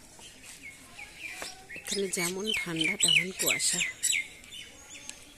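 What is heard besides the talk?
birds chirping on a foggy winter morning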